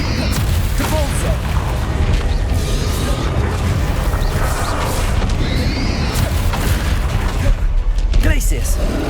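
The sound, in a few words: Depulso spell impact in Hogwarts Legacy, from a video game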